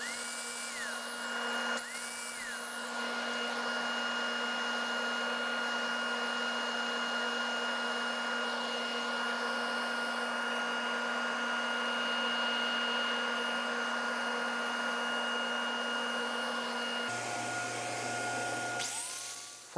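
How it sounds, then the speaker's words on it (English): Angle grinder fitted with a 36 grit disc sanding high spots off a plywood ball spinning between centers, a steady loud whine holding throughout, with a brief dip near the start and a pitch change near the end. "So here I'm using an angle grinder that has a 36 grit disc on it to take off some of these high spots"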